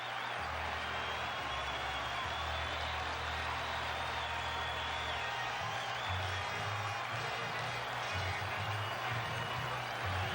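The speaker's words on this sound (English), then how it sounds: "Should get a nice hand from this crowd." Applause and crowd noise fill a baseball stadium during a 1976 World Series game in New York, a steady dense roar of clapping for a batter stepping up, with a commentator speaking over it.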